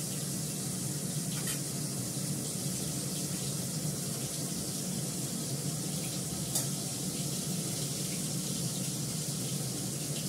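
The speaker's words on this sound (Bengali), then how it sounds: "মাছ ভাজা হয়ে যাবে" Fish frying in a covered pan, a steady broadband sizzle running unbroken and fairly close throughout, with a couple of faint sharp ticks and no voices.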